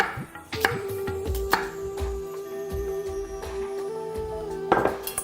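A knife chops an onion into small cubes on a cutting board in irregular knocks, close by, with a steady background hum underneath.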